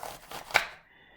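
A knife chops an onion on a chopping board: a few quick taps lead to one sharp, close cut, then a faint lingering ring as the blade settles, with no voices.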